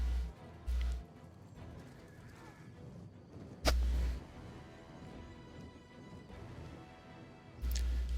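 Cavalry horses charging in Rome 2 Total War, with rapid hoofbeats and neighs over a busy battle din, punctuated by several heavy low thumps of impact, fairly quiet overall.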